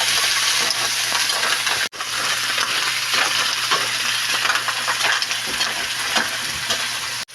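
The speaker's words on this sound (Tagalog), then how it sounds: "ito na ang tahong ng isunod natin. Tapos ganun din, ihalo natin." Mussels are stirred in a frying pan under a loud, dense sizzle that is briefly cut off twice, with faint clinks of shells and a utensil throughout.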